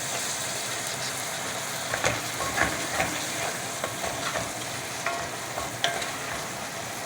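Fine-chopped onion fries in a pan while a spoon stirs it, a constant sizzle broken by intermittent scraping clicks as the mixture is moved around, close and with no talking.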